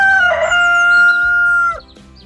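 A cockerel crows once, loud and close, a single sustained harsh call that rises and holds before dropping away into quiet outdoors.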